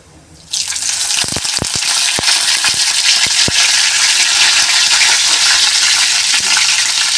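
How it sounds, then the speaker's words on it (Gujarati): Mustard seeds and curry leaves hit hot oil, setting off a sudden loud, hissing sizzle that persists for several seconds, with a few sharp pops and crackles early on; no one speaks. "થોડીક રાઈ નાખીશું લીમડો નાખીશું"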